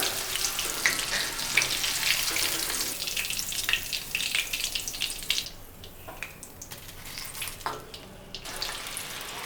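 Chicken 65 pieces deep frying in hot oil produce a steady, bubbling sizzle that runs throughout, easing slightly toward the end with a few sharper crackles and no voices.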